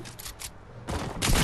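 Gunshots ring out in loud bursts, a couple of sharp cracks early, then two dense, heavy volleys of rapid fire close by.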